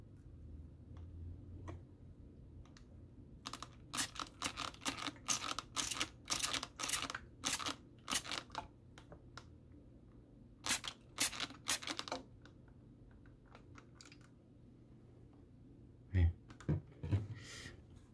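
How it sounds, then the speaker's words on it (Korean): A handheld spray bottle loaded with blue Gatorade spritzes onto a disposable mask in several clusters of quick, sharp pumps, close and crisp against a quiet background. "이 분무기로 분사를 시켜서 이게 통과가 안 되는지, 방수가 되는지 제대로 테스트 해볼 거예요"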